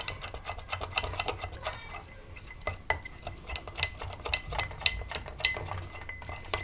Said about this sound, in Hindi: इसलिए आप पहले लेमन और शहद को मिक्स